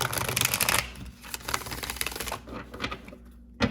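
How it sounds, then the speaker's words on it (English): Tarot cards shuffled in quick, crisp riffling bursts, close by, with short pauses between rounds and no talking. "Let's do shuffle."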